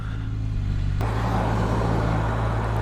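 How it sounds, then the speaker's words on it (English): Car traffic passing on US-50 during a cold ride, a steady loud rumble of engines and tyres with a sharper onset of a nearer vehicle partway through, no talk. "Bit more traffic than I really want to deal with, but we'll take a chance."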